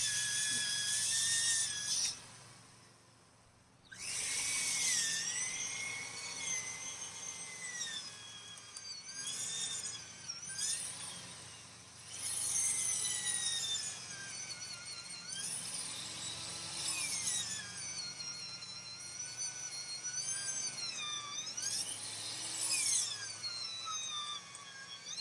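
A large power drill bores holes in wood, running on solar panel and power bank power. Its whine rises and falls across several passes, with brief pauses between them, heard up close.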